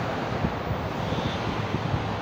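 Cool breeze blowing on a foggy morning street walk in Doha, Qatar, a constant low wind rumble buffeting the microphone, no voices.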